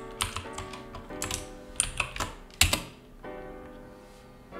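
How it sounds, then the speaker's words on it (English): Someone types a git clone command on a computer keyboard: close, crisp keystrokes in quick irregular bursts with short pauses and no talking. "to clone the repository, just type git clone and then the repository link"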